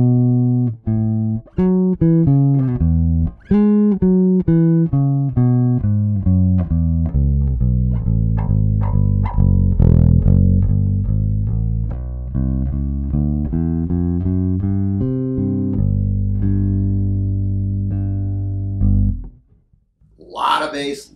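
A Spector NS Pulse 4 bass guitar plays a loud, steady run of plucked notes with deep sustained tones for about nineteen seconds, then stops briefly before a short noisy burst at the end.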